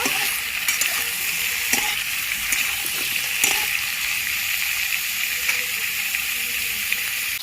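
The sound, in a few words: potatoes and vegetables frying in a pan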